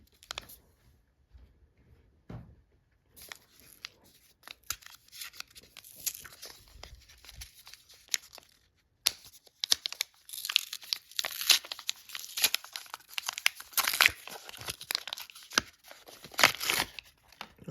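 A 2-ounce WW2 ration chocolate bar has its wrapper crinkled and torn open nearby, with soft, irregular rustling and tearing that start sparse and grow busier.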